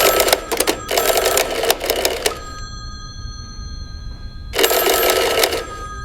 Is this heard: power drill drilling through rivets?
no